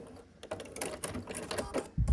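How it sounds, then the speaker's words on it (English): Domestic sewing machine stitching quilt pieces together with a quarter-inch seam, a quiet, steady rapid rattling of the needle with a louder thump at the end, close by. "then I sew with a 1/4 inch seam allowance"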